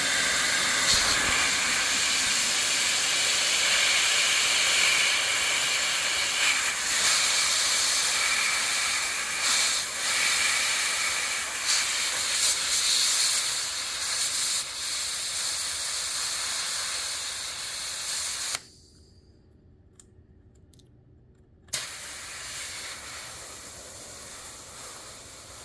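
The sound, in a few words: compressed gas hissing from CoolFire SideKick magazine fill nipple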